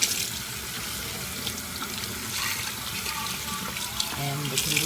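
Tap water runs steadily into a sink while freshly dyed blonde bob hair is rinsed under it, a continuous close splashing rush with small shifts where the stream hits the hair.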